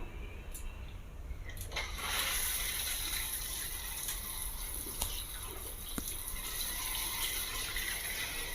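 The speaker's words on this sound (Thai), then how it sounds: "ฝักบัวอาบน้ำชั้นสองนะครับ" A second-floor shower head spraying water supplied by a Hitachi WM-P150GX2 150-watt constant-pressure pump, a steady hissing rush of spray with a few faint knocks and drips, no voices.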